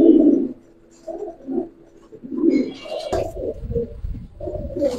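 A young male pigeon coos close by in a series of low, throaty burbles with short gaps between them, along with some rustling and handling noise partway through.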